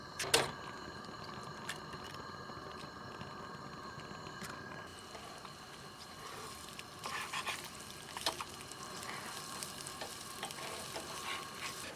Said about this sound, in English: This pan is really nice. It's a pan made by Fire Maple.